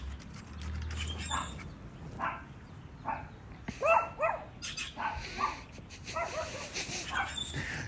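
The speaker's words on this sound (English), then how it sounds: "He barks at whatever. There's always something he's barking at" A dog barks repeatedly in short, loud bursts at close range, with whimpers and yips mixed in and a faint mechanical rattle underneath, over a low household hum.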